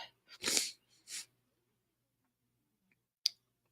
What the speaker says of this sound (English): I am getting ready to sneeze.